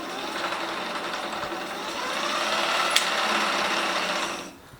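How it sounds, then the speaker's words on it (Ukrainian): The noisy rear sprocket of a well-used electric bicycle with 8540 km on it grinds and whirs as the wheel spins, a steady rattling drone that swells slightly, gives one sharp tick, then fades out. "як в нас тут шумить ось ця задня зірка"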